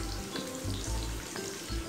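Tomato and onion for sweet and spicy bagoong fry in a pan with a close, steady sizzle, while low thumps recur a few times, likely from stirring.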